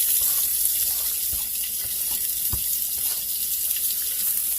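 Steady rushing cabbage cooking water pours into a sink with a couple of soft thuds, continuous and close, with no talking.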